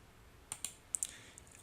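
Computer mouse clicking during file browsing, a few sharp, faint clicks spaced irregularly in a quiet room.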